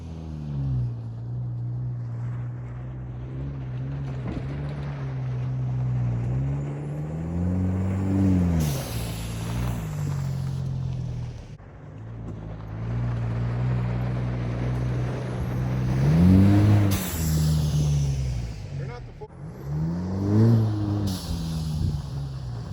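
Chevrolet Colorado pickup climbs a muddy hill, its engine revving and surging in repeated rising pulls with a steady low drone throughout, spinning and straining close by.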